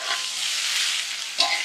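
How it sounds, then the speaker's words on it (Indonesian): Cabbage and carrot stir-frying in a hot pan, a steady broadband sizzle with a brief louder flare of hissing near the end, close and alone with no talk. "Sekarang kita masukin kol sama wortel. Aduk sampai layu."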